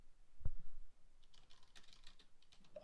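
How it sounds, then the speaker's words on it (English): Rapid, light clicks of typing on a computer keyboard, faint and close, in an irregular patter after a single louder thump, with a soft background hum. "That sounds suspiciously like typing"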